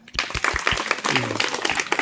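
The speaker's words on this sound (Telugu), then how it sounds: "కష్టపడి క్లాప్స్ కొట్టండి" Students in a village setting clapping together in a short, loud burst of uneven, overlapping claps up close, with brief voices mixed in.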